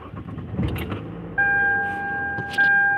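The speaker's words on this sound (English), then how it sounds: "Let me turn on my car here." A car being started from inside: keys jangle, a short low rumble as the engine catches, then a steady hum with a sustained high electronic tone that holds to the end, close and fairly loud with no talking.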